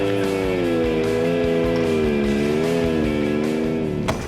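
Engine of a Can-Am Baja Bug conversion, a weighted-up off-road buggy, revving hard on a trail with a buzzy harmonic drone that wavers up and down, loud and close, ending in a sharp knock.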